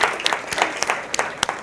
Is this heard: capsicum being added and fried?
no